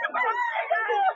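Chickens and roosters at a market sale give a close, loud, drawn-out crowing call that wavers in pitch for about a second.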